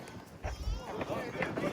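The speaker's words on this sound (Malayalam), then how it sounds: "നമ്മൾ എവിടെ വ്യൂ പോയിന്റിൽ വന്നാ കാറ്റാണ് ഗൈസ്, ഭയങ്കര കാറ്റ്" Strong wind gusts at the Jabal Shat mountain viewpoint near Salalah, buffeting the microphone in low, rumbling bursts under someone talking, over a brief stretch.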